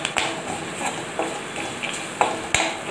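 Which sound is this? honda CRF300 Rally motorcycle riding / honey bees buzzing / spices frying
spices frying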